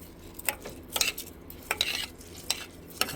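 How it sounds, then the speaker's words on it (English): A spoon stirs rice coated in ghee in a pot over no heat, making close, distinct scraping strokes roughly every half second against a quiet background, with a faint soft crackle between them; nobody talks. "we just stir it so we can mix the ghee with the rice"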